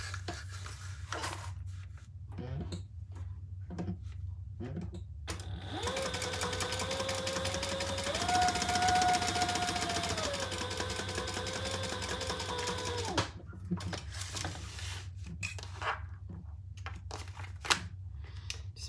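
A sewing machine top-stitches a black leather pumpkin, running steadily for several seconds with a rising whine, framed by quieter clicks and handling noises before and after.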